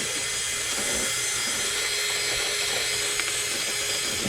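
A continuous high-pitched drilling whine from a power drill drilling out metal, steady and close, runs throughout without pauses.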